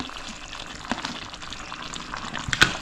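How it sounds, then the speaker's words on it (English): Rice stirred into cooking vegetables with mint, dhania, thyme and curry leaf in a pot for vegetable biryani, giving a soft steady scraping and sizzle with a sharper clink near the end. "Stir that in."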